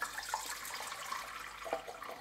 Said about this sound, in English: I pour a little bit warm water in here